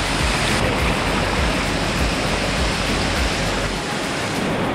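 Steady broadband rushing of river water flowing over rocks, loud and close, continuous throughout with no talking.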